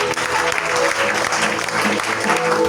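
A church congregation applauds together in a dense, sustained wave of clapping that fills the room, loud and continuous with crowd noise underneath.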